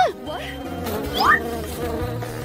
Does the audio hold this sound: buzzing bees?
yes